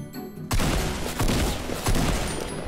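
Shotgun blasts in the Fortnite Battle Royale video game, three loud booming shots spaced about a second or so apart, each with a short decaying tail.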